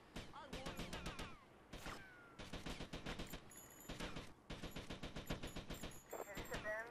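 Rapid bursts of gunfire from GTA Vice City, automatic volleys rattling loud and close in repeated runs with short gaps, voices talking over the shooting.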